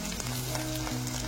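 Okra (bhindi) frying in a pan over a medium gas flame gives a steady, close sizzle with a low hum running under it and no voices.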